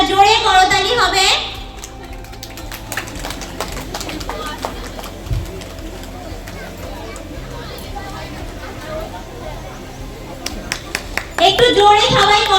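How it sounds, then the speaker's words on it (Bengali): An audience at a school annual function gives scattered, uneven clapping between announcements, as an amplified voice speaks at the start and again at the end. "মানসী দত্তর জন্য একটা জোরে করতালি হবে।"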